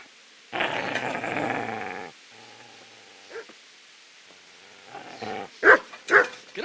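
A dog in a medieval PC game (Kingdom Come) growls in a long, low rumble, then gives a few quieter whimpers before two or three sharp, loud barks close by.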